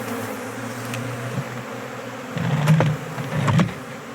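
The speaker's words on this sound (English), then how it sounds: "Oh my goodness, there's still a bunch of bees up in there." Large swarm of honey bees buzzing inside a box, a continuous low drone that swells louder in two bursts near the end, close by with no speech.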